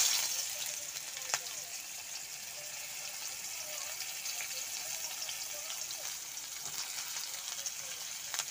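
Onions and other ingredients fry in a pan, giving a steady, even sizzle with a brief clink early on and a faint voice now and then.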